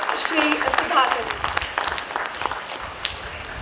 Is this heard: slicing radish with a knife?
no